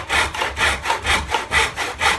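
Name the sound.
hand saw cutting wood in a mitre box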